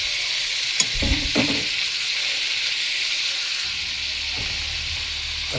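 Shrimp sizzles as it is sautéed in a pan, a steady hissing fry broken by a few clacks and scrapes of stirring utensils, close and continuous.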